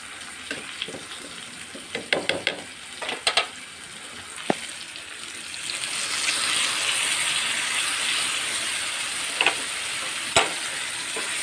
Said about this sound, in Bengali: এটাকে ভালো করে লো ফ্লেমে কষিয়ে নেব।